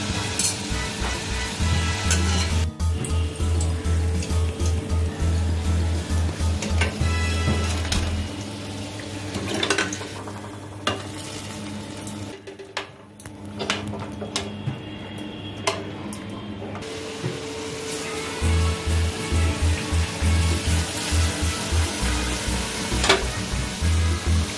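Fried pitha cakes dropped into hot sugar syrup in a home kitchen during Makar Sankranti cooking, giving a steady loud sizzle and bubbling that fades briefly midway and then returns, with light kitchen clatter.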